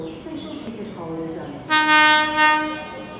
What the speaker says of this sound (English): The train on platform 2 is a charter for special ticket holders.